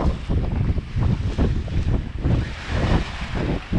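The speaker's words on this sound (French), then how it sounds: "Donc là on a 20 nœuds de vent." Strong wind of about 20 knots roars across the microphone aboard a sailing boat making 5 knots through a small swell, with a steady loud rush of gusts and water washing against the hull, and no talking.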